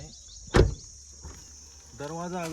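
A car door closes once with a single close, solid thump inside a car used for a driving lesson, followed by quiet cabin ambience and then someone talking.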